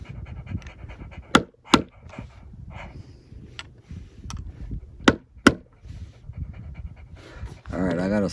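A thirsty dog pants in steady rapid breaths near the microphone, punctuated by several sharp metal hammer strikes on copper, with brief human speech and a louder burst of clatter at the end.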